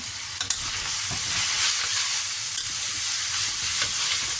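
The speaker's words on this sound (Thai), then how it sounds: "แล้วก็ผัดก่อน" Noodles stir-fried in a wok for a tea-shop style Thai fried noodle dish, giving a steady loud sizzle with scraping stir strokes throughout and no talking.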